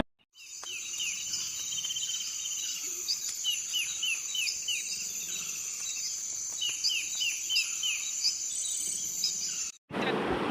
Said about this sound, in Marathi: आता तुम्ही जरा चिमण्यांचा आवाज बघू शकता